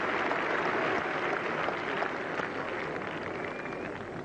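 A cricket crowd at a 1981 England versus Australia Test match applauds Geoffrey Boycott with sustained, distant clapping that fades slightly toward the end.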